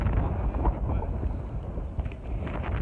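Wind gusting across an outdoor spot where friends hang out, a steady rough rumble buffeting the microphone throughout, with no clear talk over it.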